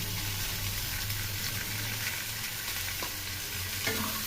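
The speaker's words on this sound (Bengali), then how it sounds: "এখন মশলাগুলো ভালো করে কষিয়ে নেব।" Spice paste with turmeric and salt sizzles steadily in a pan, a constant frying hiss with a few faint scraping stirs.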